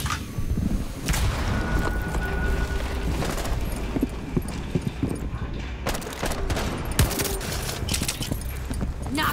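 Dense gunfire fills a Rainbow Six Siege Favela team deathmatch, with loud overlapping bursts and single shots sounding continuously and close, and a few sharper cracks standing out.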